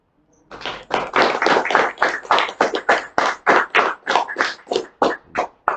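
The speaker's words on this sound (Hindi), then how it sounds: "गज़ल की शुरुआत में तालियों से इसका स्वागत" An audience claps steadily in rhythm to welcome the start of a ghazal recital at a poetry gathering, the loud, even claps repeating alone with no talking.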